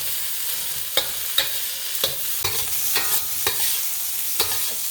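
Fried rice sizzles steadily in a large wok on a hibachi-style setup, with repeated scraping stir strokes roughly every half second over a continuous bright hiss, close and fairly loud.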